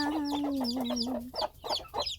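Close by, chicken chicks peep in quick high chirps, first over a drawn-out, wavering hen call, then in short bursts.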